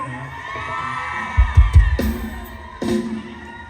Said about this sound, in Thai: รู้สึกว่าเพลงนี้จะได้รับเสียงกรี๊ดครับเป็นพิเศษครับ